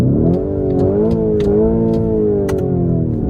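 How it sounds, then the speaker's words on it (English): A Lamborghini Urus S engine revs hard in neutral, a loud close sustained roar with pitch rising and falling through a few blips, heard alone without talk. "if you want to rev at your friends, pull both paddles to go into neutral"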